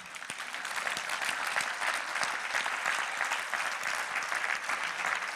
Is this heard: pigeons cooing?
no